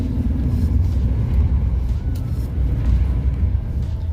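A 2022 Ford Maverick hybrid truck driving through a slalom, its low road rumble and tyre noise steady and loud from inside the cab, with wind buffeting and no clear talk.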